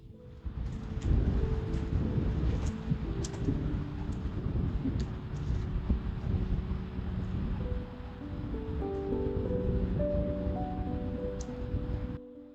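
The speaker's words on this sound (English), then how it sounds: "This wind is crazy. You're just watching those trees just dance back and forth." Strong wind gusting through trees beside a lake, a steady broad roar and rush of moving air and leaves, close and continuous throughout with no speech.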